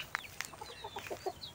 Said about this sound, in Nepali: यो मेरो दिदीको कुखुरा